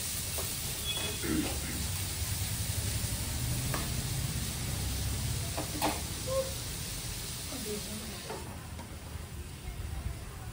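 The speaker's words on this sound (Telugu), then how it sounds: "ఫ్రై అయితే అవుతున్నాయి" Onions sizzling with a pinch of salt in a frying pan, a steady dense hiss throughout with occasional stirring clicks, close and continuous while a person talks over it.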